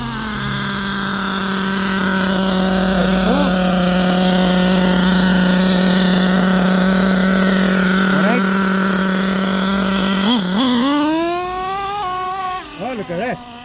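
An HPI Savage X 4.6 nitro RC truck engine runs loud and close with a steady high whine for about ten seconds, then revs up and down in rising, wavering bursts during carburetor tuning, with a voice talking briefly.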